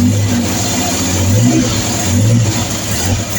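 A Triumph Trident T160 motorcycle engine, with ignition and choke on, catching and running close up with an uneven loud rumble and a few small revs rising and falling.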